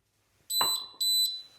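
YoLink water leak sensor on a floor splashed with water gives two sharp, high electronic beeps in quick succession, close and clear, after a brief splash.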